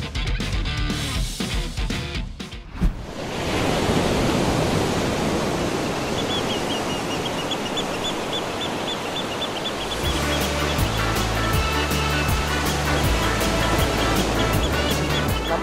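Ocean waves wash continuously onto a beach in Gunungkidul, a broad steady surf roar, joined later by a faint melodic tone over the wash.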